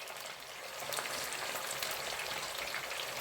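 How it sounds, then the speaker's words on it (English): Potatoes fry in hot oil with a dense, even crackling sizzle that holds close and steady throughout, with no voices over it. "While our potatoes are frying"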